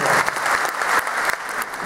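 Steady crowd clapping at the 2015 Sagan Tosu new-lineup presentation, a brief, fairly loud burst of many hands applauding together with no clear voices over it.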